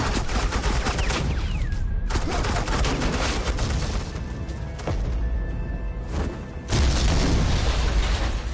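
Suppressing gunfire in the Batman Telltale game: a loud, continuous barrage of rapid shots and booms, broken by two short gaps before the firing resumes just as hard.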